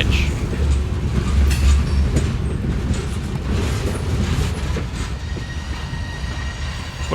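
Three classic locomotives on the Shenandoah Valley Railroad pull a string of freight cars ahead to clear a switch, a loud, steady rumble of engines and rolling wheels with rail clatter close by and no talk.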